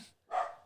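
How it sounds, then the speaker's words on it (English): A single short dog bark, fairly close and moderately loud, with a brief higher sound just before it and no talking. "Here's my dog."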